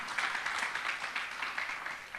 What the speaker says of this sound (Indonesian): Tepuk tangan yang lebih.